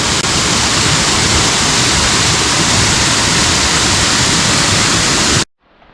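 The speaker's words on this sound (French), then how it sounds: "Oh, c'est une petite cascade, une dizaine de mètres." A small waterfall about ten metres high on the GR10 trail roars as a steady, loud, close rush of falling water, cutting off abruptly near the end.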